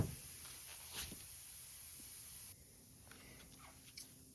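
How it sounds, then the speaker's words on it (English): Carb cleaner sprayed into the holes of a Honda XR100 carburetor gives a close, steady aerosol hiss that stops partway through, followed by a couple of short, fainter spurts. "I'll just spray out a lot of these holes in different areas with some carb cleaner"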